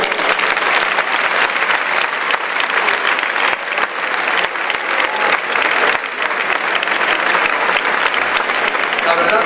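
Loud, sustained applause from a football crowd in San Mamés stadium at a player's farewell, a thick continuous roar of clapping that never lets up.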